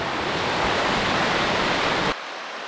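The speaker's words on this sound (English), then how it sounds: "And now we are just following the river" River water rushes in a steady, broadband roar along a wilderness hiking trail in Ruunaa, Finland, close and loud for about two seconds before dropping to a quieter, more distant flow.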